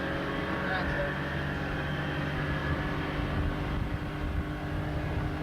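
A motorboat engine runs steadily while the hull planes on open water, a loud, continuous droning rumble with no pauses.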